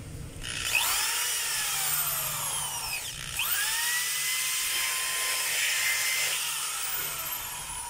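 A DeWalt DWD014 3/8-inch corded electric drill with a faulty chuck runs steadily and loud on its own, its whining motor pitch ramping down and back up as the speed changes.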